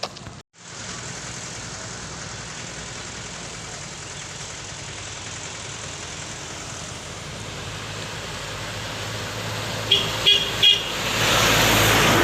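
Tourist taxis and other road traffic near Kallar waterfall by Munnar in Kerala's cardamom plantation country: a steady engine and road rumble, with a few short horn toots near the end, no talking.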